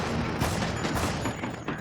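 Pistol fire in Dead Rising rings out as several quick, close shots in a tight cluster over loud game noise.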